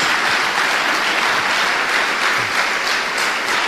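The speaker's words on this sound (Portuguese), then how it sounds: "Dê uma salva de palmas a Jesus." Sustained applause from a church congregation during a worship service, many hands clapping in a thick, continuous roar at constant strength, heard alone without speech.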